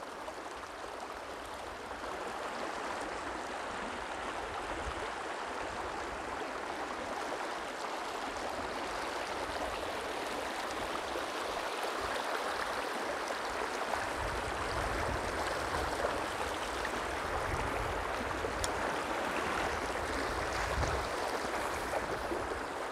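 Water of the Río Grande flowing past close by, a steady rushing and gurgling stream with no voices.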